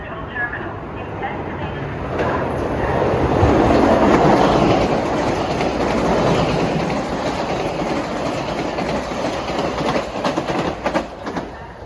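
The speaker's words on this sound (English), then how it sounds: "approaching now is train 659 from Grand Central to Southeast" Metro-North train 659 from Grand Central to Southeast approaches with a rising rumble and clatter that swells to a peak, then rolls on with rhythmic rail clicks, a voice talking in the background.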